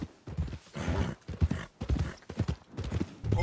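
Horse hooves clip-clopping at a steady walking pace in the Red Dead Redemption II video game, rhythmic close hoof strikes with a faint whinny, no talking.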